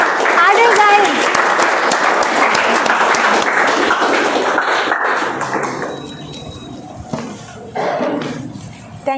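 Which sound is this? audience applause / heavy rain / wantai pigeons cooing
audience applause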